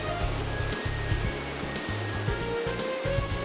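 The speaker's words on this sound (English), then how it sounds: "Clean, clear water flows down the middle of the tunnel" Water rushes steadily and continuously through a tunnel, a soft broadband wash with a pulsing low rumble, fairly quiet and with no voices.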